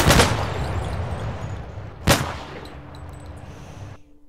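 A gun fires twice in Minecraft with Flans Mod, each shot a sharp loud crack with a booming tail, the first at the very start and the second about two seconds later, fading to quiet.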